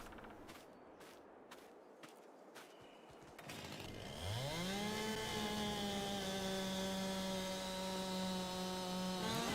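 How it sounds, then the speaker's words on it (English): A chainsaw revs up to a steady high-pitched whine while felling a tree in the woods, preceded by a few sharp knocks and rustling, then running loud and continuous for several seconds with no voices. "let's go ahead and chop down another tree."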